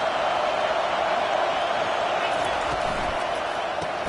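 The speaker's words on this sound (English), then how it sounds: "Listen to the crowd energy here in the early going." Football stadium crowd noise early in a game, a dense continuous roar of cheering fans from a large audience, steady and loud throughout without clear breaks.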